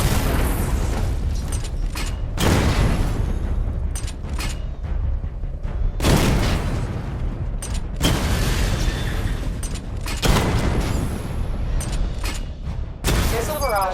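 Batmobile weapons blasting targets in a Batman: Arkham Knight simulation on PS4, with loud explosive booms and bursts arriving in repeated waves, mixed with mechanical whirring and clatter.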